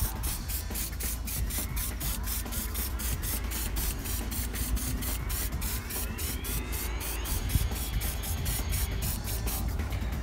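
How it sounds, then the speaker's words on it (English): W5 tar remover sprayed onto a car bumper in a rapid series of short, close hissing bursts with a steady rhythm and no voices. "I'm going to spray it on the bumper again"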